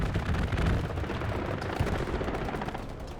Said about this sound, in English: Comes a strafing run as well.